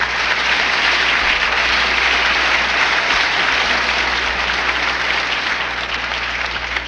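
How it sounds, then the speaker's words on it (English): A large audience applauds after a talk by General Robert L. Scott, a steady, loud and unbroken roar of many hands clapping that fills the whole stretch without a voice. "I'm a little bit sorry you applauded"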